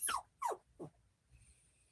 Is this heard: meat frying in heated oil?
no